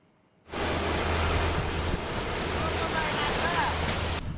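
Steady broadband rush of heavy rain and floodwater swamping Jalan Dewi Sri in Kuta, Badung, Bali, loud and continuous from start to finish with a low rumbling undertone.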